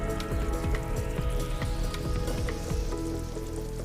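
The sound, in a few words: fish pieces being added to boiling fish curry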